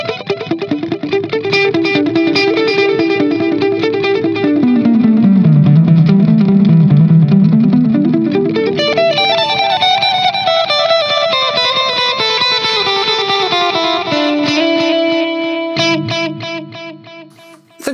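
Electric guitar through a Hughes & Kettner Black Spirit 200 amp head with digital delay playing sustained, slowly bending notes, each repeating in a clear delayed echo trail that piles up into a shimmering wash; loud and continuous.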